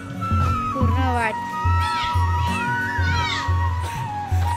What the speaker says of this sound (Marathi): मी बोलते घरात ना कुठून आवाज येतोय म्याव